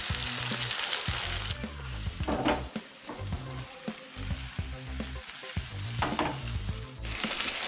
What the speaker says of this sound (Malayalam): അപ്പോൾ മീൻ പൊരിച്ചുകൊണ്ടിരിക്കുകയാണ്.